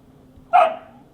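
A pet dog gives a single sharp, loud bark close by, a short burst standing out against a quiet indoor background with no talking.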